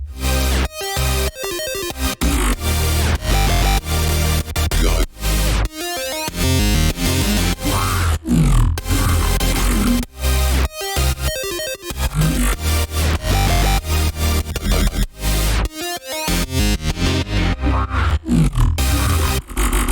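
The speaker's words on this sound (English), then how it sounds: "Then the main pattern coupled with some growls that I added sounds like this." Dense, loud dubstep main pattern with snarling growl synths over heavy bass and drums, continuous and aggressive with rhythmic stutters and brief drop-outs, playing alone with no voices.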